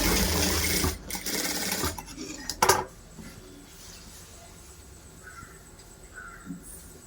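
A sewing machine stitches a blouse, running loud and steady for about three seconds, then dropping to a quieter low whir with a few faint clicks.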